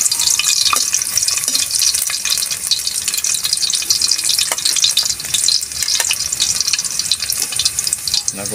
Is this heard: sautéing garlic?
yes